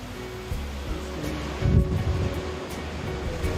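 Atlantic surf along the Algarve coastline rolls in as a steady wash of waves, with one louder surge breaking midway, mixed with wind buffeting the microphone and no voices.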